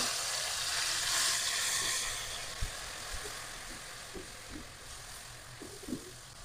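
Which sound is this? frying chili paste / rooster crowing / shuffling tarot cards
frying chili paste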